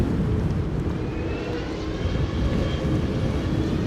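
A KLM jet airliner departing Amsterdam Schiphol for Helsinki in stormy weather, a continuous loud engine roar with a faint rising whine threading through it, no voices.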